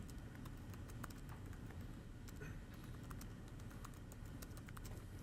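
Computer keyboard typing during a question session at an e-commerce talk for exporters in Hawaii: quiet, irregular key clicks over a steady room hum, with no talk.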